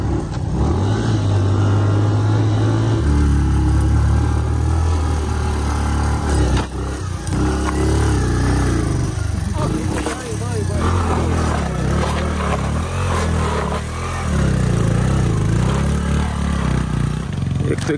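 A motorcycle carrying three riders goes by on a village road near the South Sudan border in Uganda, its engine droning and shifting pitch for many seconds, loud and close, with people talking over it.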